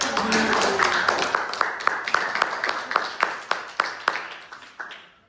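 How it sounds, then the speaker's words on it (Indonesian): Audience applause after a debate closes: rhythmic, evenly spaced claps in unison, steady at first and then steadily fading away into silence. "Mari kita berikan tepuk tangan kepada"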